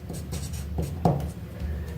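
A pen scratches out a chemistry reaction product by hand, with short, close scribbling strokes and one sharper tap near the middle, without any talk.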